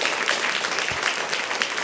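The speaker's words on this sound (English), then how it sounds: "give them a round of applause" Audience applause for panel speakers at a community health symposium, a steady dense wash of many hands clapping throughout, moderately loud and even with no voices on top.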